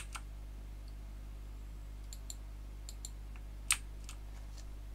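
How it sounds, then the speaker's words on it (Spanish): Keys tap on a computer keyboard on a Windows 10 PC, a handful of faint, scattered clicks with one slightly louder press, over a steady low hum with no talking. "si pulsamos ahora mismo la tecla Q en el teclado"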